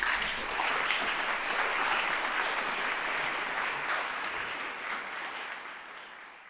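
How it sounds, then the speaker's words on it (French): Audience applause for a speaker at an inclusivity launch evening, even clapping from a room full of people that slowly fades toward the end. "Mesdames et messieurs, sous vos applaudissements, Dr Solange Rigaud."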